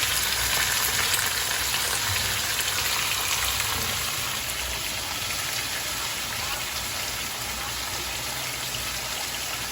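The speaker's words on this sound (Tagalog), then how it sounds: "We'll saute first the bawang at sibuyas." Garlic and onions sautéing in a hot pan hiss in a steady, dense sizzle that runs unbroken and fairly close, with no voices over it.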